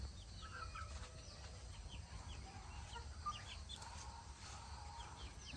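A farm hen near a nesting spot clucks in soft, scattered calls, faint and somewhat distant over a steady low background hum.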